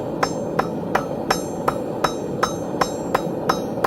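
A hammer forges scrap rebar into a spear fishing tip, striking metal about eleven times at a steady, even pace, each ringing blow close and sharp over a constant roaring background.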